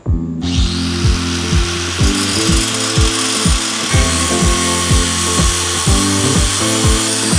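A power tool cutting through the exhaust pipe to remove a Corvette muffler, a loud, harsh grinding buzz with a regular pulsing rhythm of repeated strokes, close and continuous, with no voices.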